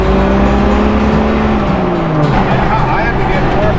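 Loud engine and road noise from a vehicle with a bad front-end death wobble on a test drive, a steady droning hum with shifting tones and a voice talking over it throughout.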